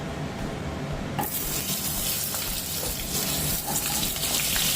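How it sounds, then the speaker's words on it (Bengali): Pieces of pointed gourd dropped into hot oil in which diced potatoes were just fried, bursting into a loud, continuous close sizzle that holds steady for several seconds, with no talking. "একই তেলের মধ্যে আমি পটলগুলোকে ছেড়ে দেব"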